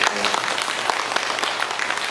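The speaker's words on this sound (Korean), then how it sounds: "우리 청년들에게 한번 박수 한번 주시겠어요?" A church congregation applauds young people during an outreach service, producing dense, sustained clapping at close range throughout, with some voices mixed in.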